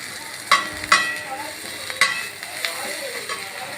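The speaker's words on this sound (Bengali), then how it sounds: "রসুনটা দেওয়ার পরে একটু ভালো করে ভাজাভাজি করে নেবেন" Garlic and onion sizzle in oil in a pan for a prawn and greens dish, with steady frying hiss and several sharp scraping stirs of a spatula, close and moderately loud, no talking.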